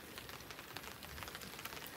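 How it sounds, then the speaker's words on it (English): Light rain pattering on a taut tent tarp at a lakeside campsite in Algonquin Park in fall, a very quiet steady scatter of soft taps with occasional slightly sharper drops, no voices. "it is starting to rain lightly again"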